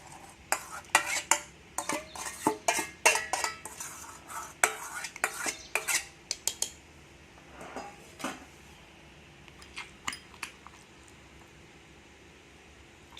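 Sorrel leaves are ground with cumin and salt into chutney in a stone mortar, giving repeated close scraping and knocking strokes of stone on stone that are busy early on and then thin to sparse taps, with no talking.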